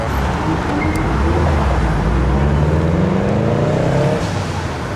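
Several cars, including a Mazda Miata and a Subaru, pass on a road in steady, loud engine and tyre noise, with rising engine tones sweeping through as they go by.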